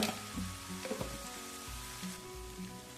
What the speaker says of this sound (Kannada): ಆಮೇಲೆ ಇದನ್ನು ಚಲೋ ತಂಗಿ ತಿರುಗಿಸಿ ಫ್ರೈ ಮಾಡ್ಕೋರಿ.